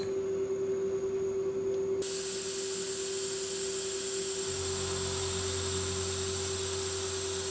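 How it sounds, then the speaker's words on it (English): A 12mm high-speed steel end mill cuts 16mm slots for drive dogs in a shop-made lathe chuck on a mill table, with spray coolant hissing steadily and a constant motor hum and whine throughout, no talking. "Using a 12mm high-speed steel end mill, I'll machine the 16mm slots for the drive dogs"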